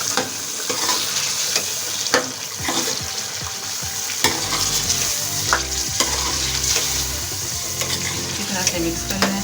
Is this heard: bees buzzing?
no